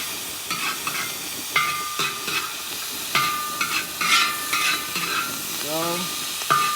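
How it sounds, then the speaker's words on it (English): Shrimp stirred in sizzling oil in a cowboy wok, with a constant frying hiss under irregular scraping strokes of a utensil against the metal and occasional ringing clinks, close up. "So we're stirring this just to get that oil touching everything."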